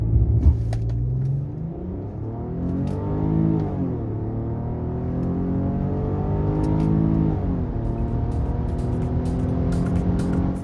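A 2008 Audi A6 2.8 FSI Quattro accelerates with its engine note rising through the gears, a sustained loud rumble with clear upward sweeps and a drop at each shift, heard from inside the car without voices.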